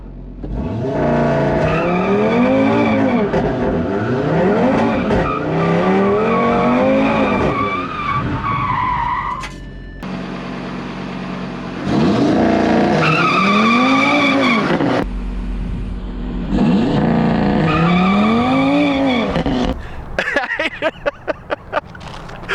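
An Audi RS3 fitted with a Wavetrac limited slip differential doing burnouts, tires screeching in long loud wavering squeals as the engine revs rise and fall, three separate bursts with short pauses between.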